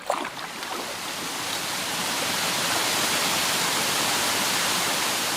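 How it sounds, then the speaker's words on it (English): A canyon waterfall running after rain roars as a dense, steady rush of falling water, close and loud, swelling slightly in the first seconds and then holding constant. "I want to see what that waterfall looks like after that rain"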